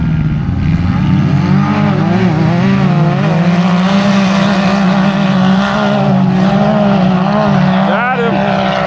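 Off-road vehicles race across the St. Anthony sand dunes, their engines roaring loudly and continuously with rising and falling revs throughout.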